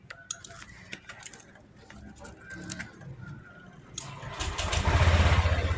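Honda Vario 150 scooter electric starter cranking during repair of an intermittent starter fault, quiet clicks and rattles first, then a loud rising whirring crank near the end, close by.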